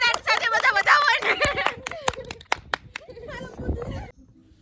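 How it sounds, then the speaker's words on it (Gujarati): A brief burst of scattered hand clapping follows a woman's speech at a small family gathering, sharp near claps lasting a couple of seconds before fading out. "તાળીઓના ગડગડાટ સાથે બધા વધાવો ને."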